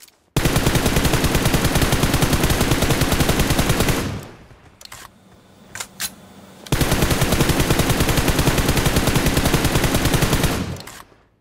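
Long bursts of rapid automatic gunfire from the mobile game PUBG Mobile ring out loud and close. A quiet gap with a few single shots separates two sustained volleys.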